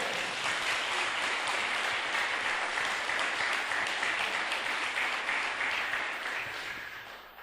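Church congregation applauding during a Sunday inauguration service, dense sustained clapping from a large crowd that holds steady, then starts fading near the end.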